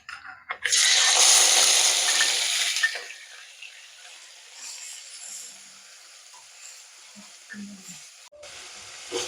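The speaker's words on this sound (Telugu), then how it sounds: "ఉల్లిపాయలు బాగా పచ్చివాసన పోయేంత వరకు బాగా ఫ్రై చేసుకోవాలండి" Onion paste and cashews frying in a pan for mutton ghee roast: a loud, dense sizzle bursts in near the start, then settles into a quieter, steady crackle that continues to the end.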